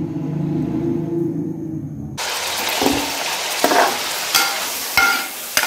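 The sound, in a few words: chicken frying in cooking oil, stirred with a spoon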